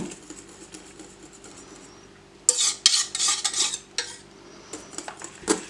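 Chocolate being mixed with cream in a bowl for a no-bake three-chocolate mousse cake: quiet at first, then a run of close clinking, scraping spoon strokes against the bowl in a quick irregular rhythm.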